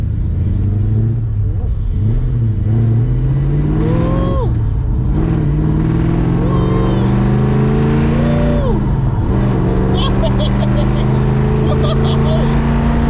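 A 1968 Dodge Coronet or 1970 Dodge Super Bee drives with a loud, deep V8 rumble, rising and falling through several revs and gear changes, with excited voices talking over the engine.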